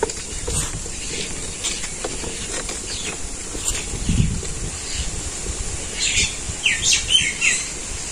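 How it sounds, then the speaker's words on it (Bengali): Birds chirp and tweet around a village on a sunny morning, with scattered calls building into busier bursts toward the end over a light background hiss and rustle. "পাখির শব্দে আমার কথা শোনাই যাইব না"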